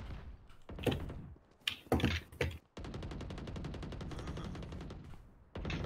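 Gunfire in the video game Valorant: several loud, close shot bursts, then a long stretch of rapid automatic fire that stops abruptly before another burst begins.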